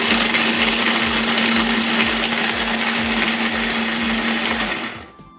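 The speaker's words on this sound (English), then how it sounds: "we are just going to process these until they're finely chopped" Small Link Chef food processor chopping almonds fine, a loud, steady high whine with hard nuts rattling and ticking rhythmically against the blade, winding down and stopping near the end.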